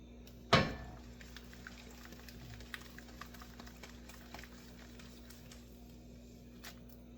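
A frying pan being jostled on the stove while eggs cook, with one sharp clank near the start followed by quiet, low sizzling and faint scraping.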